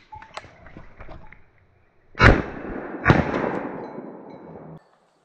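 Two loud shotgun shots ring out close by during a woodcock and grouse hunt, about a second apart, each followed by a rolling echo and decay, with faint rustling before them and no talk.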